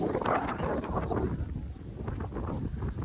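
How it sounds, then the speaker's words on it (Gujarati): Strong wind sweeps across an open, flat outdoor place in Gujarat, buffeting the microphone with a loud, continuous rumbling roar and uneven gusts. No one speaks. "આમ પ્લેન એટલે હવા બહુ વધારે આવે છે"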